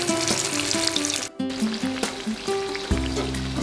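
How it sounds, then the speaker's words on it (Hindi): Soya chaap sticks deep frying in hot oil until golden brown, a steady close sizzle and crackle throughout with a brief dip in the middle, no voices. "तो हम चारों तरफ से गोल्डन ब्राउन होने तक पलट कर अच्छे से फ्राई कर लेंगे।"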